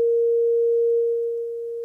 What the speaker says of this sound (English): It's just a simple sine wave.